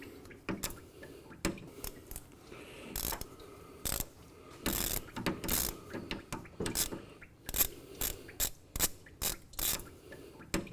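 A ratchet and tools working to pull the power steering pump off the 350 engine of a 1970 Camaro SS RS, with irregular bursts of close ratcheting clicks and metal knocks separated by short pauses.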